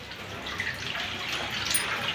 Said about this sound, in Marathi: आणि हे नळ चालूच ठेवलास बघा